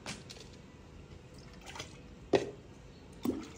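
Water dripping and splashing while spinach is washed in a village kitchen, faint trickling throughout with two sharper splashing drops standing out, close by.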